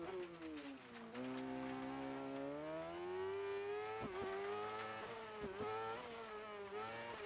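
A crosscart racing engine in the Dirt Rally 2.0 video game drones steadily and loudly, with its pitch rising and falling through revs and gear changes and several sharp dips where the throttle lifts.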